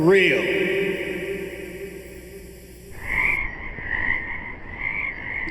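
Frogs croak loudly and close by, a dense overlapping chorus that carries on throughout the clip with no talking over it.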